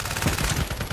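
Gunfire in the video game FragPunk during PC playtest gameplay, a dense loud burst of rapid shots filling the whole second with no pause and no voices.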